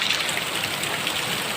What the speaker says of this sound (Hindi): बहुत बढ़िया बारिश है और बारिश की ज़रूरत भी थी